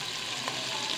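Chicken frying in a pot as yakhni stock is added, giving a steady, close, broadband sizzle throughout with a slight splash partway through; no talking.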